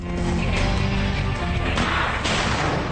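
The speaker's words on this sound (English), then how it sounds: "it's time to stun the bad guys with the latest flashbang technology" A flashbang stun grenade detonates with a loud, dense blast that rumbles and crashes continuously for a few seconds, close and overwhelming.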